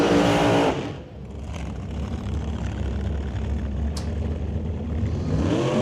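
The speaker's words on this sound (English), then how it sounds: "So, Pro Nostalgia, here we go. Dragster versus Altered." Two Pro Nostalgia drag cars, a dragster and an altered, launch hard at an old-time drag meet at Mission Raceway Park, a loud broadband engine roar that dips briefly then holds steady as the cars pull away.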